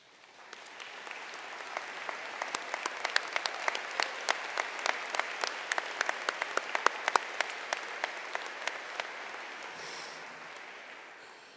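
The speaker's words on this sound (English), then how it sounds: "Please stand for a round of applause." A large crowd at a Brookfield Central High School commencement stands and applauds school staff, swelling into a sustained, even roar of many clapping hands with sharper individual claps on top, then tapering off near the end.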